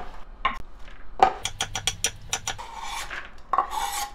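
A knife finely chops carrots on a board while cucumber kimchi (oi sobagi) is prepared. Close, quick rasping knife strokes come in a short burst between scraping and rubbing sounds.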